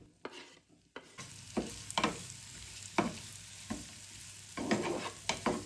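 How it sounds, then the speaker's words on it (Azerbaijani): Chopped onion frying in butter in a pan, with a steady sizzle under repeated stirring and scraping strokes, close and moderately loud, with no talking. "tavaya kərə yağını alıb soğanı tavaya əlavə edib biraz bişirirəm"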